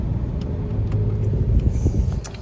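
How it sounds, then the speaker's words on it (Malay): Car traffic on a street in Alor Setar makes a steady low rumble as vehicles pass nearby. No one speaks over it. "Kereta banyak."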